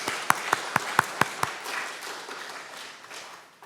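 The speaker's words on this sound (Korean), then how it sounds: "우리의 소망이 되신 주님께 다시 한번 우리 큰 감사의 박수를 올려드릴까요?" A church congregation at a Sunday morning service claps in thanks to the Lord, a few sharp, evenly spaced claps that give way to a softer, fading wash of applause.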